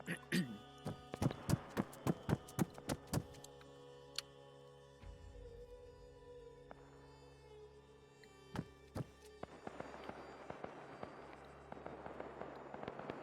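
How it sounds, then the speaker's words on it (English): Video game military training ambience: a rapid burst of sharp gunshots, then a quieter stretch with low hum and scattered single distant shots, before a thinner crackling rattle of fire picks up near the end. "Oh, man, that shooting... It's really good ambience"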